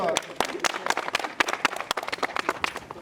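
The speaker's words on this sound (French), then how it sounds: "Applaudissez pour vous-même." Scattered hand claps from a crowd in Bamako, Mali, sharp irregular slaps mixed with voices and cheering, moderately loud and close.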